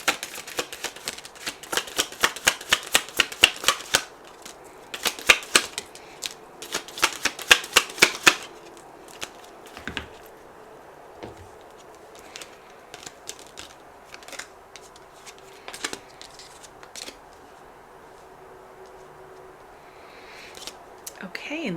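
Tarot message cards being shuffled, a close run of rapid crisp riffling flutters in bursts that later thins to sparse soft card taps and shuffles.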